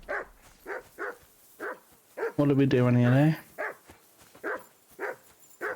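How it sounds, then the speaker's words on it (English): A dog barks repeatedly in Kingdom Come Deliverance 2, sharp evenly spaced barks through the whole stretch, with someone speaking briefly over them in the middle. "Get that mutt of yours to stop barking, will you?"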